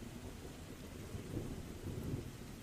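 Steady rain with low rolling thunder in a video game, a dense wash of noise with a deeper rumble swelling twice, no voices.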